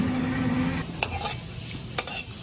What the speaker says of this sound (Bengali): 1/4 চামচ গোটা জিরে দিলাম